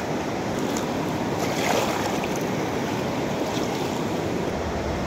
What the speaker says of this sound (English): And that water lapping up against it and taking all the rocks and stones away from it over time.